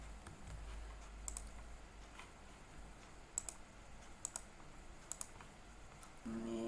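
Someone types a copy shortcut on a computer keyboard while working through a truss structure calculation. A few crisp key clicks come in small clusters over a quiet background, and a low hum rises at the very end.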